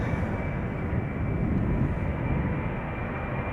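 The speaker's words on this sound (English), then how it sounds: "this is going to Gdansk, KLM Flight 1303, Embraer 190." A KLM Embraer 190 jet airliner at Schiphol Airport sends out a steady, broad engine roar that holds at an even, moderately loud level throughout, with no voices.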